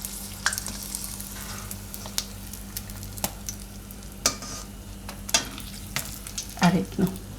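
Sandwich bhajiya fry in a pan, a steady close sizzle of hot oil with scattered crackles and pops, plus occasional scraping and stirring clicks, rising to a few louder sputters near the end.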